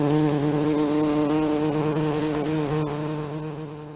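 A bumblebee buzzes steadily and loudly close by, its droning hum holding for several seconds before easing slightly toward the end.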